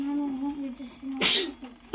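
A single sharp sneeze bursts out close by, preceded by a person speaking and followed by a brief exclamation.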